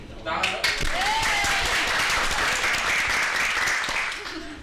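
An audience at a talk on Japanese culture among Indonesian youth breaks into applause that lasts several seconds. The dense, steady clapping fills the room, with voices heard beneath it.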